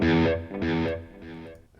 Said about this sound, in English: now we want to add some delay